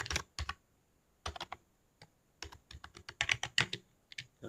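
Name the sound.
typing on a keyboard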